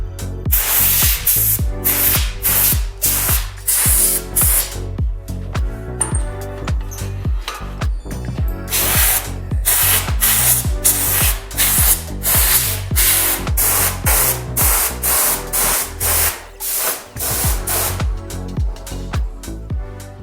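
Spray gun laying white base coat on a bike frame in repeated loud bursts of hiss, each a second or so long with short gaps between, close by and with no talking.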